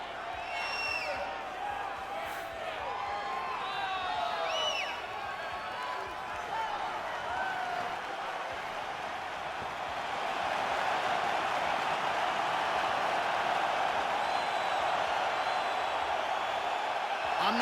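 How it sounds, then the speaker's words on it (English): A big arena crowd at a UFC 5 video game fight in the Bell Centre, Montreal, roars in a broad, steady wash that swells louder in the second half, with a few shrill whoops near the start and talk layered over it. "I'm not sure I have ever heard a louder crowd in any arena in the world than this here Bell Center in Montreal, Quebec, Canada."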